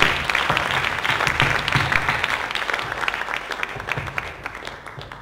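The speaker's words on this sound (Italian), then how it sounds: "Prego Christian, applauso." Audience applause for a guest named Christian at a World Space Week event in the Marche region of Italy: steady, moderately loud clapping from a crowd that tapers slightly toward the end.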